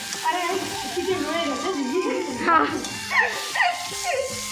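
Onion and chicken fry in a pan with a steady sizzle and the scrape of stirring, partly masked by people talking over it and a dog barking now and then.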